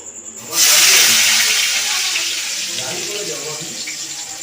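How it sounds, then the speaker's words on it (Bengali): Chopped onion and garlic hit hot oil in a home kitchen and burst into a loud, bright sizzle that slowly settles into a steady hiss, with a faint voice underneath. "তেল গরম হয়ে গেছে এবার দেখো পেঁয়াজ কুচি দিয়ে দেবো রসুন কুচি পেঁয়াজ কুচি দিয়ে দিচ্ছি"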